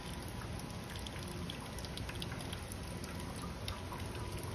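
Rain falls steadily outside on a mild day, a faint, even patter and hiss with scattered drops, continuous and without talk.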